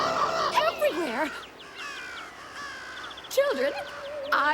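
Cartoon crows caw harshly in several quick bursts that rise and fall, with a shorter cluster near the end, close and fairly loud over a busy soundtrack with some voice-like sounds.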